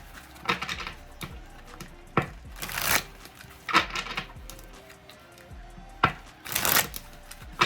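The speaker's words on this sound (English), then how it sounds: "I'm going to shuffle these back up again." Several quick bursts of playing cards being riffled and shuffled, separated by pauses with light tapping and handling noises.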